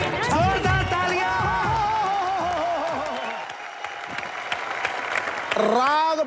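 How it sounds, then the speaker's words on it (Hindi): Studio audience applause on a televised Hindi comedy show rises under music and singing, becoming a steady wash of clapping after the singing fades, with a voice returning near the end. "जोरदार तालियां।"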